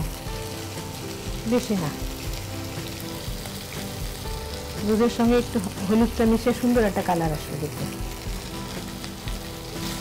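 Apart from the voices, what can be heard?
ground spices frying in pan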